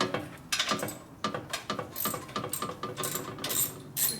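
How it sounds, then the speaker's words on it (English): A mini ratchet clicks in quick close bursts while loosening a pipe on a 1967 Harley-Davidson 74ci Shovelhead FLH, the rapid pawl clicking repeating in several strokes. "Find a little mini ratchet, whatever it is."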